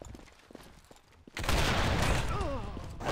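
Gunfire rings out in a video game match, opening with scattered quiet shots and then erupting into a loud, sustained burst of rapid fire.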